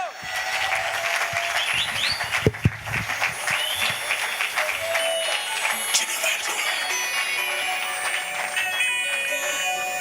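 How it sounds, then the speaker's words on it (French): A comedy club crowd gives comedian Diego a thunderous round of applause, loud dense clapping with cheers and whoops, a few sharp nearby claps, and a voice briefly calling out over the noise. "Je vous demande de faire un tonnerre d'applaudissements pour mon gars"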